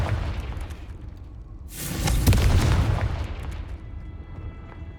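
In the video game Hogwarts Legacy, a Confringo spell sets off a booming explosion whose blast rises sharply, rumbles loudly for about a second, then decays into a fading tail.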